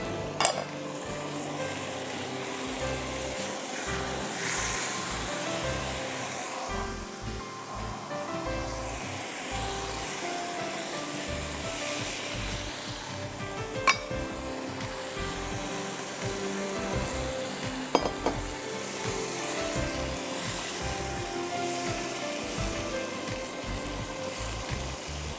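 Chicken fries in a pan with spices, yogurt and some water for a chicken curry, giving a soft continuous sizzle with occasional stirring scrapes and clinks of a utensil against the pot, fairly quiet and alone.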